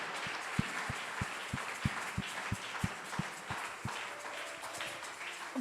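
A church congregation claps in a steady, even rhythm, roughly three beats a second, against a murmuring hall background.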